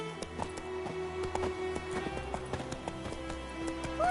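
Roach the horse gallops in The Witcher 3, hooves clopping in a quick, steady rhythm over soft ambient background.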